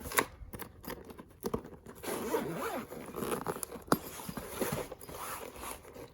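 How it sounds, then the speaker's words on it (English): A zipper on a TOLOCO percussion massage gun carrying case is pulled open in a series of close, raspy bursts with small rustles and clicks between them, and no voices are heard. "Okay, so unzip it."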